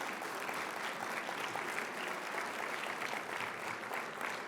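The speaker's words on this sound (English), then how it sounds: "And we can applaud for passenger rail" An audience applauds steadily and loudly at a regional State of the Region event, a dense, even wash of clapping held throughout without a break.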